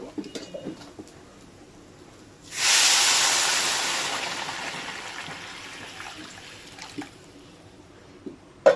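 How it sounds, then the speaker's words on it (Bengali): Hot water is poured into frying khichuri in a pan, and a sudden loud hiss bursts out partway through, then fades slowly over several seconds, with faint kitchen clatter before and after. "এবার আমি গরম জলটা দিয়ে"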